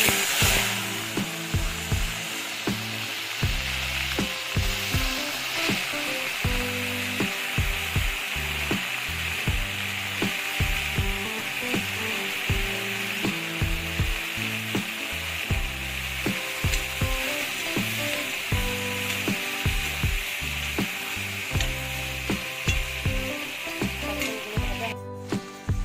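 Raw kakrol fries with black cumin in oil in a wok, a steady close sizzle running throughout with repeated scraping and knocking of a spatula stirring against the pan.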